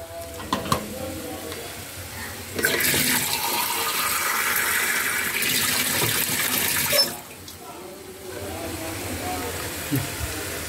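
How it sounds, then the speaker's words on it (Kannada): Water poured into a hot pan of eggplant palya bursts into a loud rushing hiss for about four seconds, then settles back to a quieter, steady sizzle. "ಈಗ ಸ್ವಲ್ಪ ನೀರು ಹಾಕ್ಕೊಳ್ಳೋಣ."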